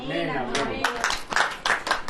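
A church congregation claps hands during a Hindi sermon: a preacher's voice leads into a handful of quick, scattered claps from a nearby group.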